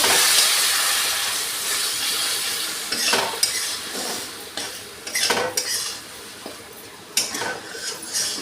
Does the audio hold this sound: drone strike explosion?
no